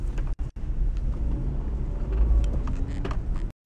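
Car driving along a road on the way home, a steady low rumble of engine and tyres with brief dropouts near the start and end, no speech.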